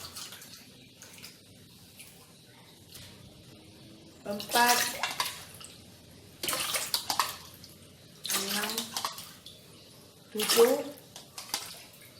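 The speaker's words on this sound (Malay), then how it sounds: "Saya nak masukkan 8 cawan air" Water splashes and pours into a rice cooker in four separate bursts, each a few seconds long, with quiet gaps between and a voice counting softly.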